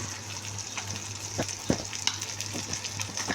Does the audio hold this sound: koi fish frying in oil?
yes